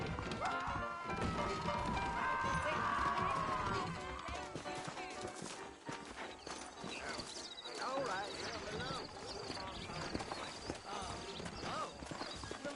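Horses' hooves clip-clopping in the western video game Red Dead Redemption, with a horse whinnying, steady hoofbeats throughout under voices talking and game music.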